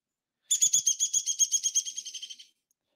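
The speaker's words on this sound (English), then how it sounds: "That is classic downy woodpecker." A downy woodpecker gives a fast, descending whinny, a rapid series of about fifteen sharp, high notes that speed up and fade over roughly two seconds, clear and alone.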